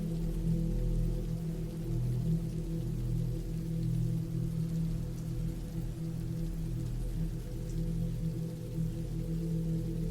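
Steady, continuous rain falling on a surface, a dense even patter with low rumbling body throughout, loud and close with no pauses or voices.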